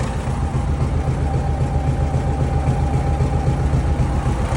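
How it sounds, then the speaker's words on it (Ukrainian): An MTZ-892 tractor diesel engine idles steadily, a loud, constant low rumble close by with no revving or talk. "Моторчик працює гарно."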